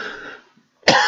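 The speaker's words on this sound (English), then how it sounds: "Coughing so well." A person coughs, one harsh burst fading out, then after a brief silence a second loud, close cough starts abruptly.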